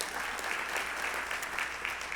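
An audience at a State of the City event at Rivers Casino in Portsmouth applauds its distinguished guests, with dense, steady clapping from a sizable crowd filling the whole moment at moderate loudness.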